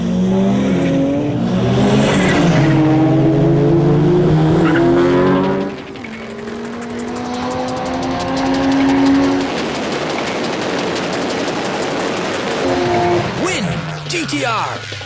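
A tuned, roughly 450-horsepower four-wheel-drive GTR and a turbocharged CRX launch in a drag race, engines revving hard with rising gear-change sweeps, loud and close, then fading as they pull away while a voice talks over it.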